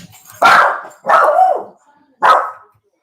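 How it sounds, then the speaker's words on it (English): A dog barks three times nearby, loud and sharp, with brief pauses between each bark and quiet in between. "Thanks for being a good guard dog and letting me know there's somebody at the front door."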